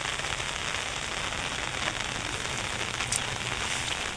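Morning rain falls steadily at a home, a continuous soft hiss of drops on surfaces with a few sharper patters, even and moderately quiet throughout.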